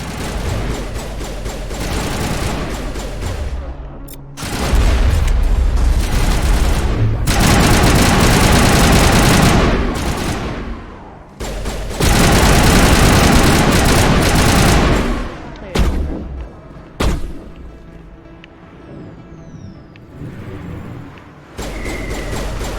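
Heavy gunfire from Mass Effect Legendary Edition, including sniper shots, comes in long loud sustained bursts separated by brief pauses, then tapers into scattered sharper shots, with a voice talking over parts of it.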